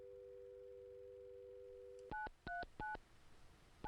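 Telephone tones in the video game Mon Bazou: a steady dial tone hum, then four quick crisp dialing beeps in a brisk rhythm, clear and close.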